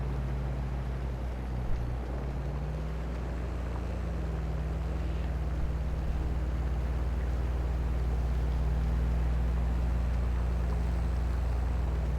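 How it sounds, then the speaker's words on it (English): A slightly underpowered tractor engine from Farming Simulator 22 drones steadily and evenly throughout while plowing a field, a constant low hum with no pauses. "Yeah, this tractor's kind of unpowered just a little bit."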